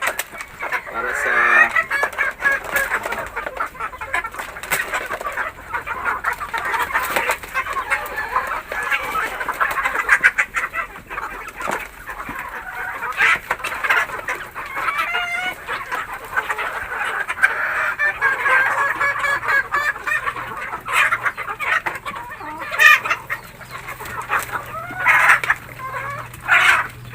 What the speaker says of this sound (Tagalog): Native chicken, pwede mong gawin sa likod ng bahay.